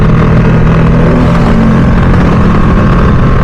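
A Ducati Streetfighter V2 motorcycle engine revs hard above 5,000 RPM on a ride through a Gloucestershire village, a loud, close, sustained roar with no talk.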